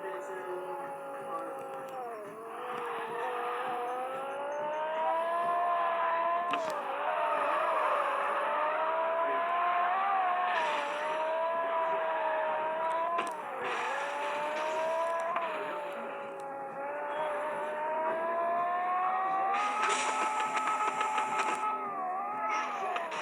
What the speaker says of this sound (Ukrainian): Ми будемо просто на чилі кататися